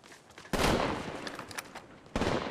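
Gunfire in the mobile battle royale game Apex Legends Mobile, with sharp bursts of rapid shots that start abruptly and return after a short gap, loud and close with no talking.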